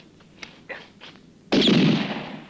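A single loud gunshot from a revolver in an old Western standoff, a sharp crack with a ringing decay that follows a few faint thuds and rustles.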